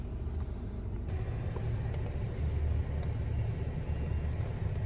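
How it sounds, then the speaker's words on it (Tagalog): A car drives away from a house, giving off a low, steady engine rumble that holds at a moderate distance with faint background noise. "may umalis na sasakyan dito"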